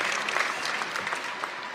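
Audience applause for a Jerry Seinfeld speech, a dense steady wash of clapping from a large crowd that holds at an even level throughout, with no distinct voices standing out.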